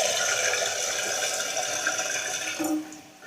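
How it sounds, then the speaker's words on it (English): Water rushes and hisses steadily as a toilet tank fills, then tapers off near the end. "you can let a little water out without filling the whole tank."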